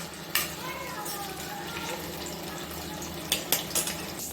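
Homemade paneer fries in hot oil over a high flame, a steady close sizzle running throughout, with a few sharp clinks of a utensil against the pan near the start and again toward the end.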